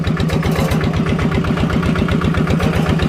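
A tractor engine runs steadily in first gear, close and loud, with an even rapid low thumping rhythm and no talk.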